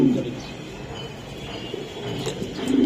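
Racing pigeons cooing in low, steady murmurs close by, with soft background noise and a slightly louder coo swelling near the end.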